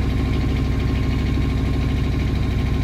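A car engine idling steadily after being started with a key, a loud, close, even low rumble with a fast regular pulse and no talk over it.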